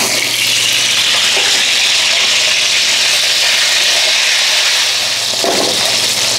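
Potatoes for a Bombay aloo curry hit hot, flavoured oil and sizzle in a loud, continuous, bright hiss close by, with no talking over it.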